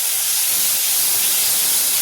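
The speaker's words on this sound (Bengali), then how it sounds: "এই যে মশলাটা যে গুলে রেখেছিলাম দিয়ে দিচ্ছি।" Spice paste hitting a hot pan of salted tomatoes for a vegetable dal, giving a steady, loud, broadband sizzle that holds evenly throughout with no talking.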